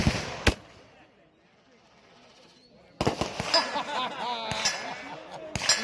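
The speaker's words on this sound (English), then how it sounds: "That's just like a Webley revolver." A Webley revolver fired single action into the air at an outdoor range gives one sharp, loud crack near the start, followed by quiet and then people talking over clattering background noise.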